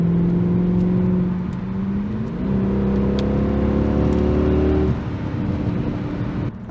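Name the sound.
Mercedes W211 E63 AMG exhaust revving, secondary cat delete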